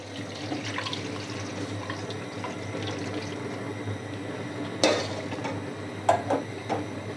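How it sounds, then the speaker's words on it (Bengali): Chicken stock pours into a cooking pot for spicy momo soup, a steady close splashing gush of liquid with a few sharp clinks of metal near the end. "এখন আমি দিয়ে দিব চিকেন স্টক।"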